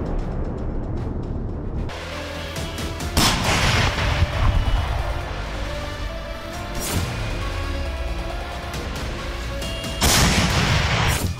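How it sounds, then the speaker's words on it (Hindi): Self-propelled 203 mm artillery firing at Russian positions near Bakhmut, heard as a few heavy booming blasts over a continuous rumbling battlefield background, with no one speaking. "इस बार यूक्रेन ने सेल्फ प्रोपेल्ड 203 mm आर्टिलरी से रूस के ठिकानों पर बारूद की बारिश कर दी।"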